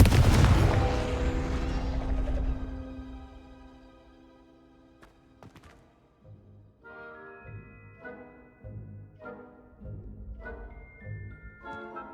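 A Confringo blasting spell explodes in the Hogwarts Legacy video game with a loud booming burst that rumbles and fades over several seconds, followed by softer game music tones.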